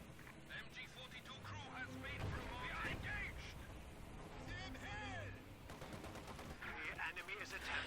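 Machine gun fire rattles in bursts through a Company of Heroes 2 match, mixed with other gunfire and battle sounds while a voice commentates over it.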